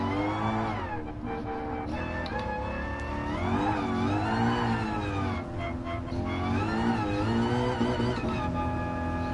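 A car engine revs steadily in a racing video game, the pitch climbing and dropping as it shifts through the gears, loud and continuous for several seconds with no talking.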